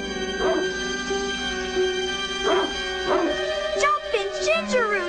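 A cartoon dog from the Charmkins animated series barks and whimpers in short yips and whines, heard over steady background music and other cartoon sounds.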